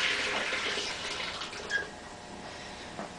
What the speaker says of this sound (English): So I'm going to close up this valve,